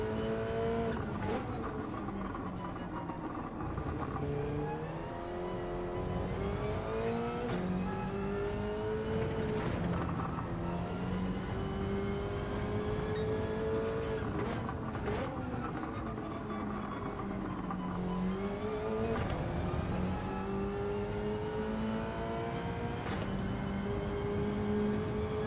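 A Subaru GR3 race car in a racing video game revs and shifts repeatedly, engine pitch climbing and dropping through gears in a loud, continuous run with no talk.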